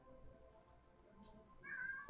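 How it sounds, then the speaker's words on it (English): A house cat lets out one short meow near the end, fairly close but quiet, after a moment of low room noise. "My cat says hello, everybody."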